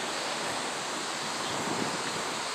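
Large typhoon surf breaking at Inamuragasaki around 2 m, a steady roaring wash of waves with wind noise on the microphone, loud and continuous with no voices.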